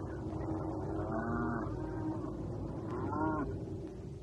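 Water buffaloes low at a village, two drawn-out moans rising and falling over a steady outdoor background, fairly faint and somewhat distant.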